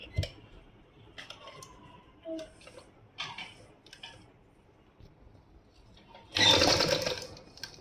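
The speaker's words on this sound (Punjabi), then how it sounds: "ਦੇਖੋ ਹੁਣ ਆਪਾਂ ਲਾਵਾਂਗੇ ਸਲਾਈ" A sewing machine stitching a salwar hem, scattered light clicks and short bursts of mechanism at first, then a loud close run of rapid stitching near the end.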